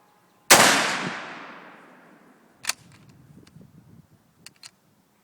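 A Mosin Nagant rifle firing Chinese surplus ammunition lets off a single loud, close shot with a long trailing echo, followed by faint clicks and rustles of handling.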